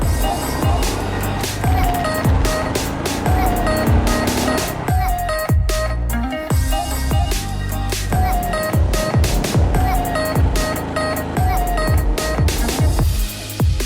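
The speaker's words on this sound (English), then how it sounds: "Alright, engine start, ready to go." A vehicle in a parking lot near Mt. Tapyas in Coron starts up and pulls away, engine revving loudly and close with shifting pitch sweeps as it accelerates, continuous throughout.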